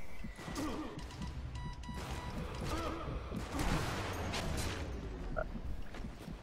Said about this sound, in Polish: Ten Luger taki fajny dźwięk wydaje.